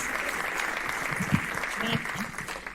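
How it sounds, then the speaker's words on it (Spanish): Strong applause from an audience at a presentation, a steady wash of many hands clapping close and full, with a few voices cutting through. "y te agradece con un fuerte aplauso."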